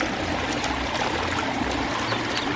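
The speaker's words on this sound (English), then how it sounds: "and then the waterfall coming in." A garden waterfall pours steadily into a koi pond with water lilies, giving a constant, close rushing and splashing wash of water with no voices.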